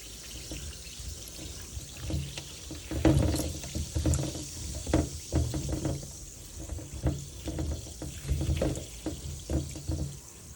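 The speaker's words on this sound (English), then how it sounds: "Did a baking soda and vinegar rinse on these pears" Pears being rinsed in a baking soda and vinegar wash, soft irregular water sloshing and splashing with small clustered bursts, fairly quiet and close, no voices.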